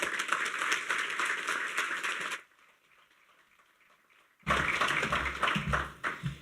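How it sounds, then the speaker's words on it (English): A conference audience at a health plenary session applauds a speaker, a steady wash of many hands clapping for a couple of seconds, then a brief quiet gap before another burst of clapping with low rumble returns. "A big round of applause for Gavin."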